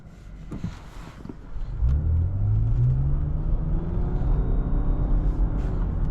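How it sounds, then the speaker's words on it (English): 2021 Lexus RX 450h F Sport hybrid SUV pulling away under acceleration, its CVT and electric motors producing a rising whine that climbs steadily in pitch over a low engine rumble, heard from inside the cabin. "Except it has the whine from the engine and electric motors."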